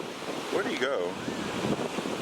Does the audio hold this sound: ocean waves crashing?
yes